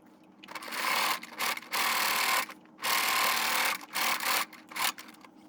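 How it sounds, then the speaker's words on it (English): A sewing machine runs in several loud bursts while stitching a quarter-inch seam on a hanging kitchen towel, each run a second or so long, separated by short pauses, close up. "And the next we're gonna sew one more 1/4 inch stitch"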